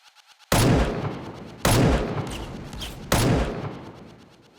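Colt 1911 gunshots in a PC video game: three heavy, booming shots spaced about a second and a half apart, each with a long decaying tail, loud and close with no talk.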